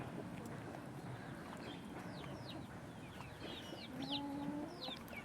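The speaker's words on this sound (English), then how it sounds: "Oh, that chicken wants some too." Chickens cluck and chirp in short bursts outdoors at moderate distance over a steady background noise, with a few sharper calls toward the end.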